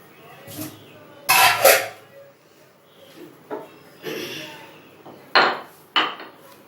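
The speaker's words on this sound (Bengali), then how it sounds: "আপনারা এরকম শিলের মধ্যে নোড়া দিয়ে এলাচ থেতো করে নেবেন।" Cardamom is crushed with a stone pestle on a flat grinding stone (shil-nora) in a home kitchen: several sharp, close knocks and grinding scrapes arrive in uneven bursts separated by short pauses.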